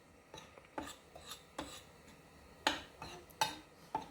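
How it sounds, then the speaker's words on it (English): A spoon scrapes and rasps against a bowl while mixing flour and cornmeal, a series of quiet, irregular strokes about every half second, close and alone. "just gonna use a spoon to mix that in, just to make sure it's gonna evenly mix through the cornmeal and the flour"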